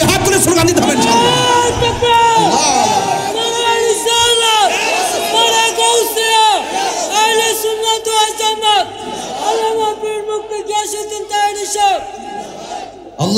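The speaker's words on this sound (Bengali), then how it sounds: "কারা কারা আছেন দুই হাত তুলে স্লোগান দিতে হবে ইনশাল্লাহ" A large crowd at an outdoor Islamic religious gathering in Bhairab chants slogans in loud, rhythmic unison, the massed voices rising and falling in repeated call-like phrases with a strong, close, echoing presence.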